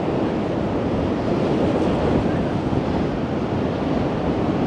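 Surf and strong wind roar steadily at Blackpool seafront on a bank-holiday Saturday as the high tide approaches, a dense, continuous wash of breaking waves with heavy wind buffeting on the microphone and no talking.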